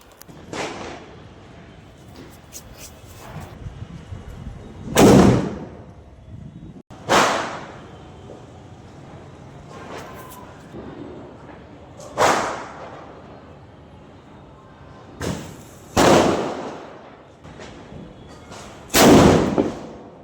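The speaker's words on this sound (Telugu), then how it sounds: "ఎంత మంచి అయితే వెళ్తున్నాయి క్రాకర్స్" Local Diwali firecrackers go off outdoors in sharp, loud bangs, about six separate bursts spread irregularly over twenty seconds, some close together, with quieter hiss and background noise between them.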